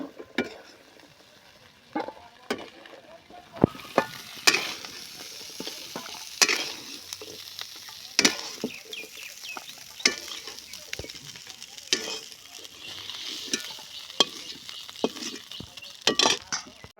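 Crab frying in oil in a village-style kitchen gives a continuous close sizzle, broken by repeated sharp scrapes and clinks of a spatula against the pan at an uneven rhythm.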